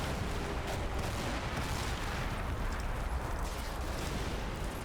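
Anti-aircraft vehicle in Combat Mission Cold War pounding a building with continuous heavy fire, a dense, steady rumble of overlapping blasts with no pauses.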